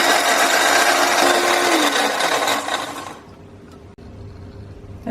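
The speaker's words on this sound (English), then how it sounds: "I'm just going to dry grind my roasted spices." An electric grinder dry grinds roasted spices for Thai green curry with a loud, steady whirring roar that cuts off after about three seconds, leaving a quiet room.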